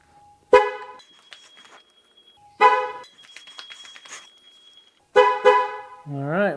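Three short car horn chirps, each a brief loud toot followed by a sustained tone, sound as a tire sensor relearn tool registers each wheel sensor on a car with an LS7 engine; the horn is near and clear, ending with a warbling tone.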